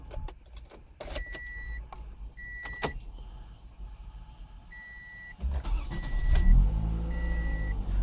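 A 2019 Toyota Camry SE starts up after a run of interior chimes and clicks, its engine catching with a loud low surge and then settling into a steady idle close by, with no talking.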